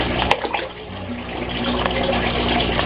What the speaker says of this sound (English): The siphon will suck the water downward.